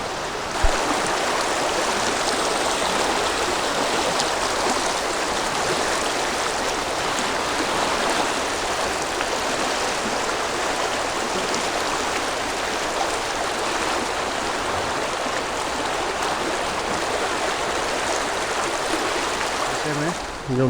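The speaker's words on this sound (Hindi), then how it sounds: "पानी कल से भी बढ़ गया है मुझे ऐसा लगता है, क्योंकि कल रात भर बारिश हुई है।" A river in Haridwar, swollen after a night of rain, rushes past in a continuous broad roar, steady and close, with no words spoken over it.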